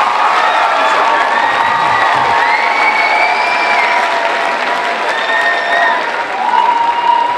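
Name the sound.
audience applause and cheering at a school awards event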